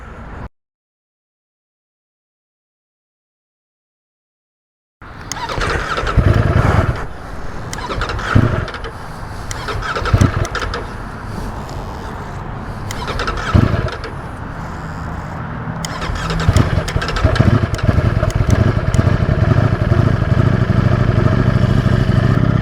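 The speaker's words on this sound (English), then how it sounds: "initially didn't want to start up, but I think the battery was low, and the bike only has about 3 miles." A Ducati Streetfighter V4S motorcycle with only a few miles on it cranks and starts after a moment of silence, then settles into a loud, close, rumbling idle with occasional blips and clatter.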